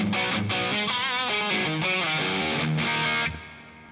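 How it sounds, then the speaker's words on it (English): Distorted electric guitar through an 80s-style pedal, drenched in heavy reverb, plays loud chord stabs and bending riffs, then a last chord rings out and decays into a reverb tail. "With a ton of reverb, because if you're playing the 80s"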